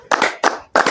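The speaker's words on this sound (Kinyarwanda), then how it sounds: "mukomere amashyi umudamu" Three short bursts of hand clapping at an even rhythm, close and fairly loud, with brief gaps between them and no voices.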